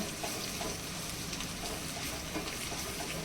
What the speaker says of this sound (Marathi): गोडा मसाला फ्राय करायचं काम चाललं आहे